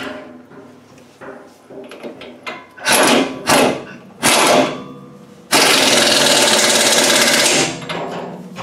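An impact gun nips up a ball joint bolt on a Land Rover 110 A-frame, several short loud bursts followed by one sustained hammering run of about two seconds, close by.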